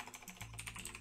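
A short, soft patter of keystrokes on a computer keyboard, several quick light taps close by in a quiet room, with no talking.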